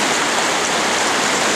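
Steady rushing of a stream running higher than usual at a gold-prospecting spot, a dense, close, continuous wash of water with no voices over it.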